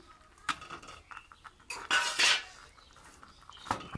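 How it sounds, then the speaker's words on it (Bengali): Potatoes and eggs being mixed with spice paste in a pan: a spatula clinks and scrapes against the metal in scattered knocks, with a louder burst of scraping midway, close and without talk. "ভালো করে মশলার সঙ্গে মিশিয়ে নেব।"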